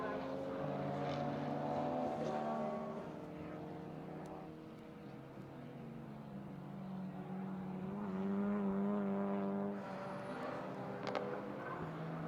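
Race cars lapping the Buttonwillow circuit during a racing session: a steady, droning engine note rises and falls in pitch as cars pass at a distance, with a faint voice underneath at times.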